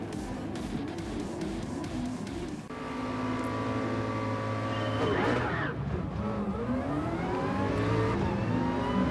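Race car engines at a race start in GT Sport, with a low idling drone that rises into a pack of engines revving and accelerating, pitches climbing and shifting as cars pull away.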